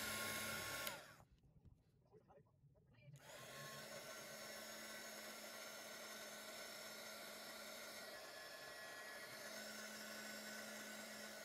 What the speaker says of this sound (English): it's time to heat it with the heat gun.